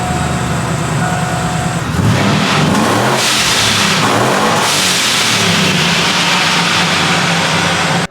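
A supercharged childhood pickup truck with no intercooler, fitted with a straight aluminum pipe in its place, idles and then roars into a hard, loud rev and acceleration that holds steady and strong to the end.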